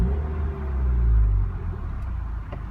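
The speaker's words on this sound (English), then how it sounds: "Foot on the clutch, push the button, fires it up." A modified Ford Fiesta ST, tuned to about 245 to 250 horsepower, fires up with a push-button start: a deep, close rumble swells and then settles into a steady, throaty idle.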